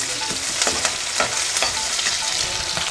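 Sliced onions fry in a pan for methi rice bath, a loud continuous sizzle close up with repeated scraping strokes of a spoon stirring, no voices over it.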